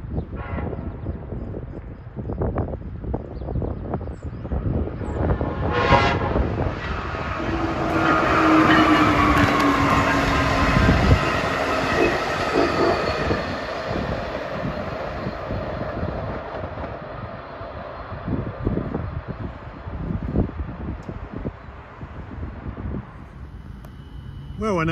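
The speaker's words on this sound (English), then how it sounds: "here comes Amtrak 647" An Amtrak passenger train on the Keystone Corridor between New York and Harrisburg rolls through a station, giving a swelling rumble and roar with a horn-like tone, then fading, while people talk intermittently nearby.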